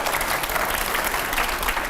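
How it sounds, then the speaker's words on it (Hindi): A studio audience applauds during a televised debate between Maulana Mahmood Madani and five editors, a thick, continuous roar of clapping at steady loudness throughout. "वाकई में इसके लिए एक बार फिर से तालियां बनती है"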